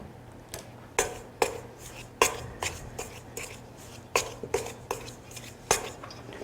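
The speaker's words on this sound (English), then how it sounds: "So I'm creaming it all in." A large spoon scrapes and knocks against a bowl while creaming Valentine cupcake batter, giving repeated irregular clacks and scraping strokes, fairly close and moderately loud over a low steady hum, with no one speaking.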